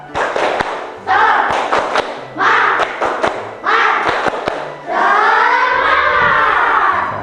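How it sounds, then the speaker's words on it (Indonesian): Schoolchildren perform a rhythmic spirit clap, loud close thumping bursts of patterned claps and desk slaps in several phrases, ending in a sustained burst of children's shouting voices. "mari kita tepuk semangat terlebih dahulu"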